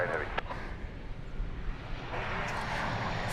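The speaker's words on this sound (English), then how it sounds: "American Flight 49 from Charles de Gaulle Airport in Paris. And that'll be a 787-9 Dreamliner." An American Airlines Boeing 787-9 Dreamliner jet rumbles steadily with a broad, distant roar, while a voice talks over it.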